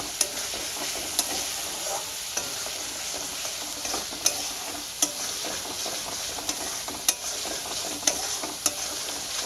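Spice masala being stir-fried with catla fish head in a pan, a continuous bright sizzle broken by regular light scrapes and clicks of a stirring spoon, with no voices.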